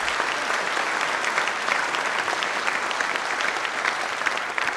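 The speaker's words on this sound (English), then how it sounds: "give them one more round of applause" A crowd applauds at a Tempe Season of Service event honoring local mayors, with dense, loud, continuous clapping that holds steady for the whole stretch.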